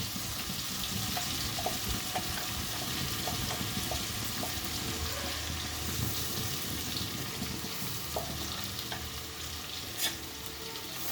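Ground masala and ingredients frying in a pan of mustard oil for Bengali papda fish tel jhal, a steady close sizzle with faint stirring clicks throughout, no talking.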